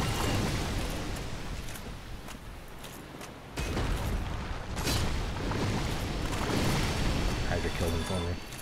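Watery blasts of a Hydra's ranged attacks in Dark Souls Remastered, with heavy booming bursts near 3.5 and 5 seconds over a dense wash of game noise, while a player keeps talking throughout.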